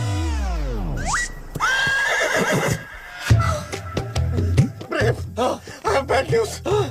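A horse whinnies loudly in a long descending neigh, followed by snorts and background voices and movement in a busy outdoor scene.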